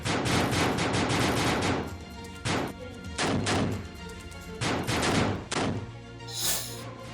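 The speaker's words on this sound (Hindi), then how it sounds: "3 बदमाश, ताबड़तोड़ फायरिंग।" Three attackers firing rapidly in a daytime murder on a sofa, a long dense volley of shots, then several spaced single bangs and another short cluster, loud, close and reverberant.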